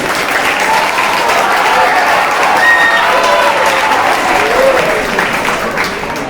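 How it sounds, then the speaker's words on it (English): A school audience at a declamation competition gives a loud, sustained round of applause, dense and even throughout, with some crowd murmur underneath. "So huge round of applause to the team."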